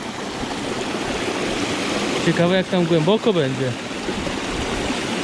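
Steady roaring rush of water pouring over a dam spillway, broad and constant close by, with a person speaking briefly over the noise in the middle.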